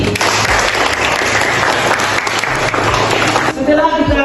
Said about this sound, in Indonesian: kita bersama-sama kasih aplaus untuk Arifandi